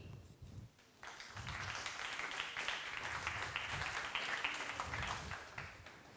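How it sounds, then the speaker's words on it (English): A conference audience applauds a speaker, a steady wash of clapping that starts abruptly and fills the room at a moderate distance. "please give a round of applause to Informal Systems product lead, Adi Serendinschi."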